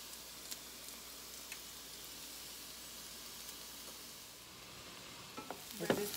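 Peppers and onions fry and caramelize in a pan with a constant soft sizzle, a few light taps, and a louder scrape of stirring near the end.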